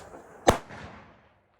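A single sharp firecracker bang at a New Year celebration, loud and close, with a brief crackling tail fading over about a second; no talking.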